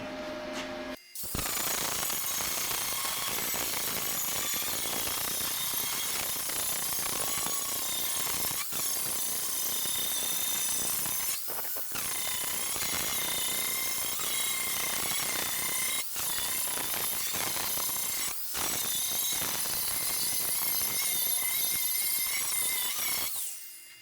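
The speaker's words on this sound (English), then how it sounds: "now it's time for some grinding" A grinder works steel on the door of a 1976 BMW 2002, a loud, continuous, high-pitched abrasive whine that runs for over twenty seconds with a few brief breaks as the tool lifts off the metal.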